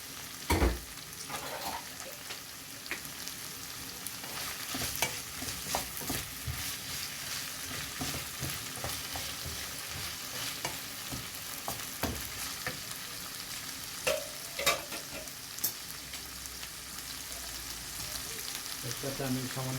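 Chopped cabbage stir-fries in a pan with chicken tikka jalfrezi and vegetables, giving a steady sizzle broken by frequent scraping stirs and clacks from a spatula, close and continuous with no talk.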